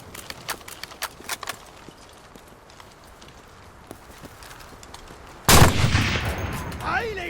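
Gunfire from the video game Enlisted, set on a lake map on Xbox Series S: light clicking and tapping at first, then a sudden loud shot or blast burst that stays dense and sustained to the end, with no talk.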